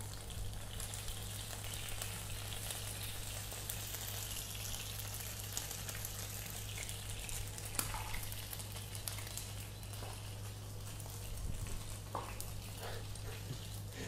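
Korean pancake made with cabbage frying in a pan, a steady dense crackling sizzle of oil that holds evenly throughout, close and continuous with a low hum beneath and no voices.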